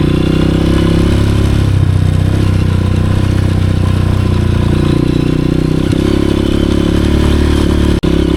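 A Honda CRF 230F dirt bike engine drones loud and close on a mountain trail, a steady low rumble with slight throttle changes, no voices over it.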